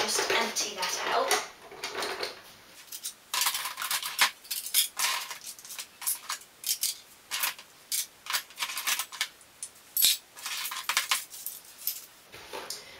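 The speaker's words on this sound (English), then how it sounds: "I just want to start by taking out the bottom drawer. And just empty that out." A bottom drawer is pulled out and emptied in a craft room makeover, giving a run of close, sharp clinks and clatters of small items being tipped and moved, with pauses between bursts.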